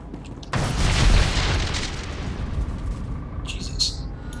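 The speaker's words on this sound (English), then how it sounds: "Oh, that is a big bomb." A big bomb in Star Wars: The Old Republic goes off with a sudden loud boom, followed by a long rumbling decay. Faint crackles and a few sharp bright bursts come near the end.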